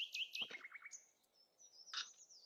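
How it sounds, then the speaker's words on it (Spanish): Birds chirp and tweet in short, bright bursts and a few sliding whistles, sounding quiet and fairly close, used as a morning ambience effect in a tabletop role-playing session with no talking. "y comenzáis a escuchar los pájaros"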